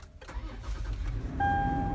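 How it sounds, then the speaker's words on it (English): A car engine cranks briefly and catches, settling into a steady idle, with a clear electronic chime tone entering as it starts up; close and fairly quiet, with no speech. "We're gonna go ahead and start the vehicle."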